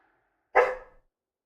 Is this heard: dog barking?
yes